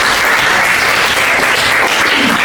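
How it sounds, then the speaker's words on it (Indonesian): Classroom applause after a student presentation in a Catholic religious studies class, a dense, steady wash of many hands clapping close by for a couple of seconds, with no talk over it. "Terima kasih tepuk tangan"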